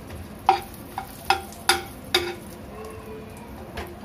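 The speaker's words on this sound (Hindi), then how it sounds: "इसको भून लेंगे हम।" Bay leaf, cinnamon, black and green cardamom and cloves fry in butter and oil in a pan. A faint sizzle runs under about six distinct, evenly spaced clinks of a spoon stirring against the pan, and no one speaks.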